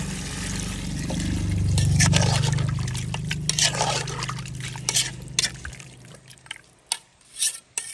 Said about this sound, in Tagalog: Lalagyan na tayo dito guys ng tubig.